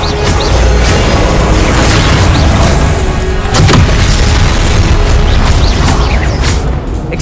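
A Confringo spell explosion effect from a Harry Potter fan film fills the clip, a loud sustained booming rumble with crashing bursts layered on top that holds at full strength throughout.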